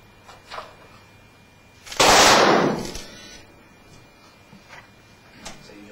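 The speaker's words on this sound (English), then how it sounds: "hold the fire button and just rotate the switch so you can set off as fast or as slow as you like a sequence of charges." A special effects charge goes off as part of a sequence fired from a rotary switch. One loud, close, rushing burst lasts about a second, surrounded by a few faint, brief pops.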